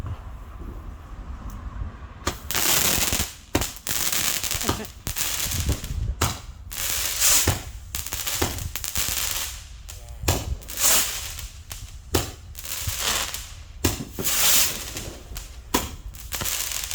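Fireworks and firecrackers go off at a house in loud, sharp bursts and crackling volleys, coming in uneven clusters with brief pauses between them.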